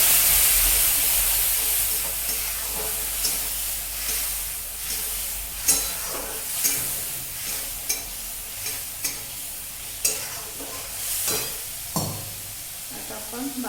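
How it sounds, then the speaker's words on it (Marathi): Spiced tempering of turmeric and garam masala with peanuts sizzling in a pan, for a chana dal, moong dal and palak bhaji, as a little water goes in; a steady frying hiss with intermittent stirring clinks and scrapes, close and moderately loud. "फोडणी जळू नये म्हणून वरून थोडं पाणी"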